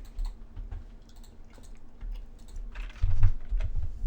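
Computer mouse and keyboard clicks while working with a lasso selection tool, heard as soft, scattered close clicks that grow denser and louder toward the end, with no talk.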